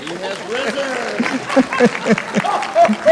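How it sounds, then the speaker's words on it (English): A small group at a coffee gathering applauds new residents, light scattered clapping mixed with cheerful voices and laughter, close and informal. "Rounds of applause, please."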